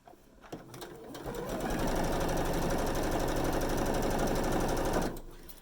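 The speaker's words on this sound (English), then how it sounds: "sew this bad boy down" Sewing machine stitching a quilt block, a close, steady rapid whirring run of about four seconds that starts and stops cleanly.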